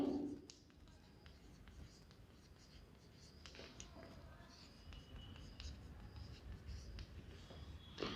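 A maths condition written out by hand, the faint, close scratch and tap of a pen moving over paper in short strokes within a quiet room.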